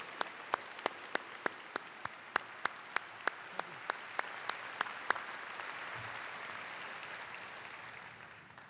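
A convocation crowd welcoming freshman supporters at the University of Washington applauds steadily, with a string of sharp, distinct claps near the microphone over the first half before they blend into a softer, more distant wash of applause.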